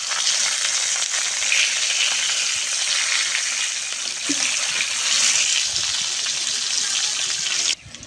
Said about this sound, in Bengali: তেলটা গরম হয়ে গেছে এবার মাছগুলো আমি এক একে ভেজ